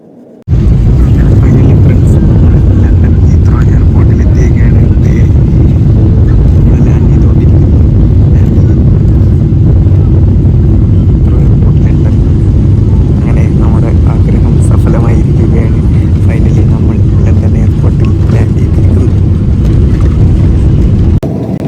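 A loud, steady airplane engine roar fills the cabin during landing, a constant deep rumble with a faint background voice now and then.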